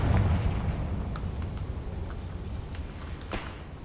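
A Confringo fire spell explodes in the Hogwarts Legacy video game, a loud booming blast at the start that rolls off into a rumbling decay, with a brief crackling burst near the end.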